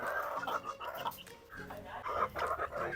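Hens cluck and murmur close by in a coop in a city, a steady, uneven chatter with a few louder squawks rising among them.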